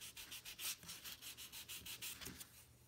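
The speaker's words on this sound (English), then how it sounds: "And then I'll go to the finer sander a little bit." Fine sandpaper is rubbed back and forth over balsa wood on a small glider, a soft, quiet rhythmic rasping of about a dozen even strokes close by.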